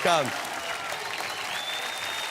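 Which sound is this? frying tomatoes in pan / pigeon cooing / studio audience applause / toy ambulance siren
studio audience applause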